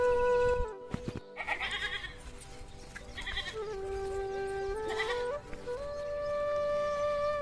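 Several goats bleat close by in a village dairy farm in the morning, their calls overlapping and repeating, with a few sharp knocks near the start.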